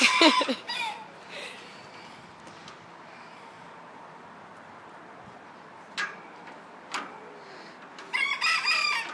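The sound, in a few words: rooster crowing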